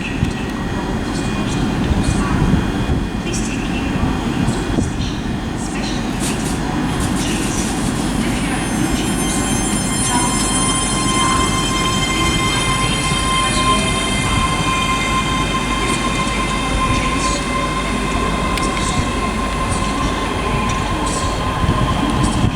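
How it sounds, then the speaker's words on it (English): A ScotRail Class 385 electric train pulls out of Haymarket station with a loud, steady rolling rumble, wheel squeal and high whine rising over about twenty seconds, close by and continuous. "departing now will be the 1609 ScotRail service from Glasgow Queen Street to Edinburgh"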